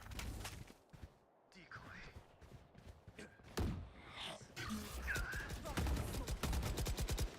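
Rapid bursts of gunfire in Valorant, sharp cracks and fast automatic volleys coming in uneven clusters, loud and close with a voice speaking between and over the shots.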